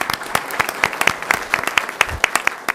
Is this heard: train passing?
no